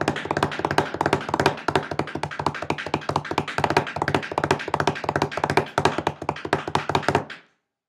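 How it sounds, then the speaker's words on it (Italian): Rapid, steady thumps of a bass drum struck with a foot pedal, dozens of close, punchy hits in even rhythm, then it stops abruptly. "suona la cassa, che per me è la gamba sinistra, il piede sinistro"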